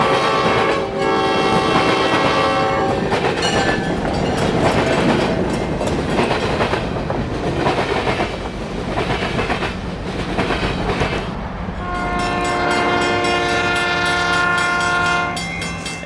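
A San Joaquin passenger train rolls past loudly at Stockton Tower, crossing the WP and SP main lines with a rumbling roar and clacking wheels, its horn blaring in long sustained blasts at the start and again near the end.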